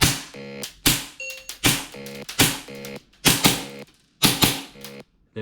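Repeated airsoft pistol shots during MantisX dry-fire style training, about eight sharp close cracks spaced roughly every half to one second, each with a metallic ringing decay, no talking.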